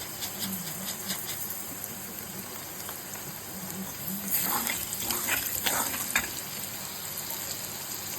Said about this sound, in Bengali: এবার এতে আমি দিয়ে দেব জিরে ফোড়ন